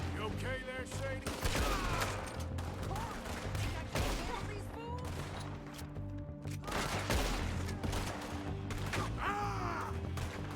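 Gunfire in the video game Red Dead Redemption 2, repeated loud shots and bursts in a chaotic battle mix, with shouting voices and other game sounds underneath.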